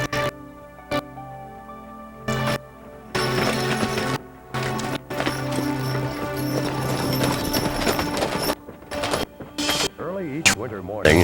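A six-horse hitch of draft horses clip-clops in an uneven rhythm of hoofbeats, with a whinny near the end; a voice talks over parts of it.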